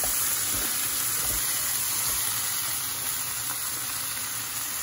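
Tomatoes and spice powder sizzle in a hot pan for butter chicken, a loud, steady, close frying hiss that runs unbroken throughout with no talk.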